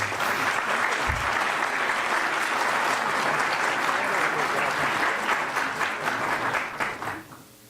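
A large audience applauds at a police honors ceremony, dense sustained clapping filling the room at a loud, even level before tapering off at the end.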